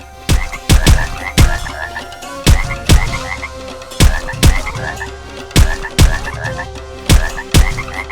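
Loud repeated frog croaks from a frog fighting in the game Carter's Quest, sharp punchy bursts arriving in quick pairs and clusters at an irregular rhythm, up close with no talk.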